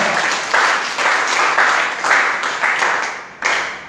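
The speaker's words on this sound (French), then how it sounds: "Acclame le Seigneur très fort." A church congregation applauds loudly in repeated bursts of clapping that swell and ease, close and full, with a fresh surge near the end and no clear speech.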